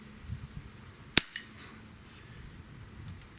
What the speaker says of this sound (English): Let's just shoot 5 shots over the chrony.